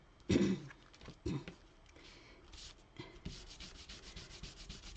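A blending brush is rubbed over crumpled, inked cardstock, making soft, close scrubbing strokes with a few louder thumps near the start and a quicker rhythmic swishing toward the end.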